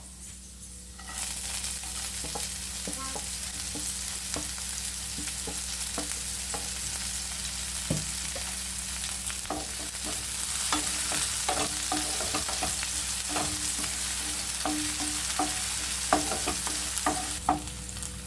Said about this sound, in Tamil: நறுக்கி வச்சுருக்க பச்சை மிளகா ஆட் பண்ணிப்போம்